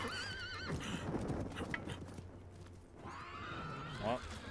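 A horse in a video game whinnies and clip-clops away, with a neigh at the start and a second whinny near the end, while a person talks over the game sounds.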